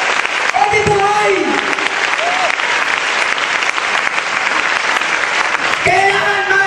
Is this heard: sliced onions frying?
no